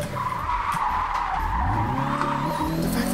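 Tires screech in a long, steady skid as a car is drifted with the handbrake in a JDM free-roam drifting video game, with engine drone underneath, loud and continuous throughout.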